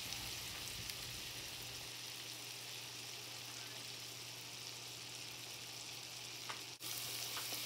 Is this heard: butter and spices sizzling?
yes